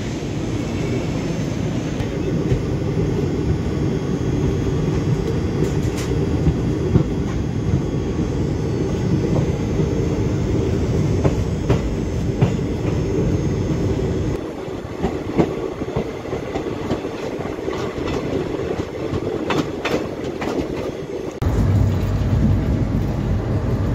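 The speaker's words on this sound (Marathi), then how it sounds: "भिलवडी रेल्वे स्टेशन 5 मिनिटे उशिरा ट्रेन आलेली आहे" Koyna Express at Bhilwadi railway station, a steady loud rumble of rail cars with occasional clatter and metallic clicks running throughout, no voices.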